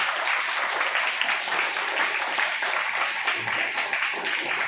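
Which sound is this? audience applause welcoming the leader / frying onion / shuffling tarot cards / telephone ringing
audience applause welcoming the leader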